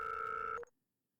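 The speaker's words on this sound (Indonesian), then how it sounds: "Ada yang telepon." A telephone rings with a steady two-tone electronic trill for just over half a second, then cuts off abruptly into silence.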